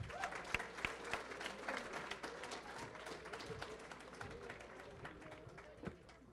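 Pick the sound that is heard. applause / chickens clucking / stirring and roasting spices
applause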